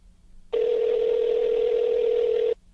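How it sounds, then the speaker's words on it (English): Steady telephone dial tone on a call placed to a guest during a radio show, one continuous loud hum lasting about two seconds that starts and stops abruptly, with no voices. "let's get on the phone with our friend Ivy Rivera."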